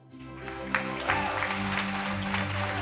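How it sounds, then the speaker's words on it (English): Applause at an awards ceremony honouring teachers for excellence in teaching, a steady wash of clapping rising quickly and holding loud throughout, with some crowd noise mixed in. "Big round of applause."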